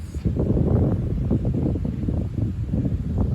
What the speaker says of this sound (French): le vent souffle encore à 70